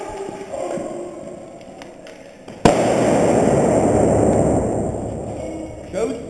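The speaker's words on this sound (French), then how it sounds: "Grenade!" An airsoft grenade goes off during an outdoor capture-the-bottle game, a sudden loud sharp bang followed by a long hissing, crackling burst, with players' voices before and after.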